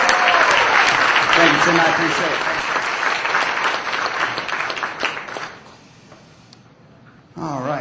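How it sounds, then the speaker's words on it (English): An audience at a magic show applauds loudly for about five seconds, then the clapping fades to a lull and briefly picks up again at the end, while someone speaks over it. "How about a nice round of applause"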